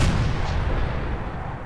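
A rifle fires once in a modded shooter game as a loud, booming report with a long rumbling decay that fills the moment, with no talking.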